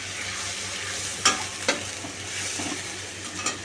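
Poppy seed, cashew and yogurt paste is stirred into katla fish frying in a pan, giving a steady soft sizzle with a few brief utensil scrapes and pokes.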